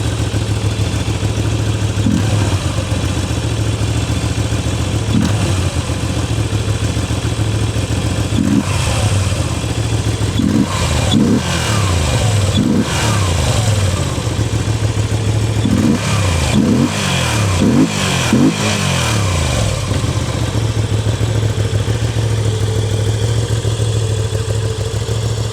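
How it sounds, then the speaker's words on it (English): A Moto Guzzi V7 Sport motorcycle engine idling with a steady low thrum, broken by a series of sharp throttle blips and revs in the middle section before settling back to idle. "Try to rev it, and you can see how the bike moves."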